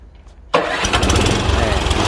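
Old two-stroke Yamaha engine on a farm pusher for soil, fertilizer and manure, key-started: after a brief quiet moment it catches abruptly and settles into a loud, steady, buzzy running close by.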